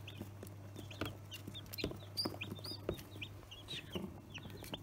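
H5 and Bresse chicks and chickens cluck and peep in quick irregular bursts over a steady low hum, fairly faint and with no talking.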